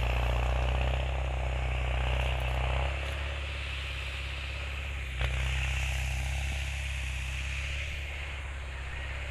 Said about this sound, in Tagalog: yung tunog dun sa likod ko is yung traktora po yun